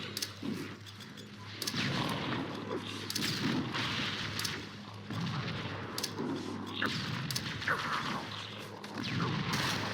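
A grenade blast in Halo: Combat Evolved Anniversary, on a massive mod of The Maw played on Legendary, lost in a loud, unbroken wash of gunfire and booming battle noise that runs the whole time.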